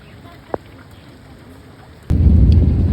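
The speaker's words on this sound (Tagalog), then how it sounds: "kahit umuulan, may kulog at saka itim ng langit" Steady rain hisses in the background, a short sharp thunder crack early on, then the downpour surges much louder and heavier with a deep rumbling roar.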